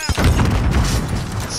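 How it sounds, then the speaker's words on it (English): Stun grenade going off in Call of Duty: Modern Warfare, a loud close boom with a sharp onset followed by a sustained rumbling, crackling wash. "I'm going to throw a stun grenade up there."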